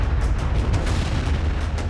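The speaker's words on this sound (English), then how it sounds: "At 3:10 in the morning, the mines are detonated. It is still one of the largest non-nuclear explosions in history." Massive 1917 wartime mine detonation, one of the largest non-nuclear explosions, heard as a loud, sustained deep rumble with repeated booming blasts rolling through it and no voices.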